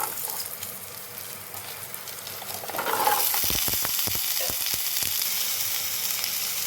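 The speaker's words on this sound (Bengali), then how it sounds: "এবার আমি কড়াইয়ে আরেকটু তেল দিয়ে এর মধ্যে ডুমো ডুমো করে কেটে রাখা আলুগুলো দিয়ে দিচ্ছি।" Diced potatoes hit hot oil in a wok, a gentle sizzle jumping to a louder, crackling fry with a few sharp pops and spatters, heard close with no talking.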